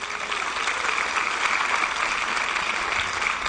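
A comedy show audience applauds as a volunteer is called up on stage, a steady wash of clapping that holds evenly throughout.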